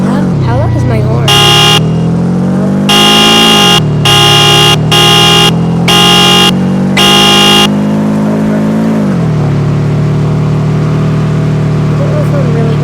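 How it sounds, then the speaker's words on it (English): A car horn in the driving game Greenville sounds in several loud blasts of varying length, one short honk then a run of longer toots, over a steady engine drone. "How loud is my horn?"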